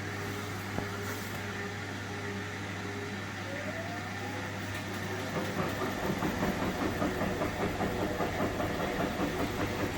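An Indesit Express washing machine, model WMS E16, starts its spin cycle with a steady low motor hum that builds into a louder, faster rhythmic drum rumble in the second half, with no voices.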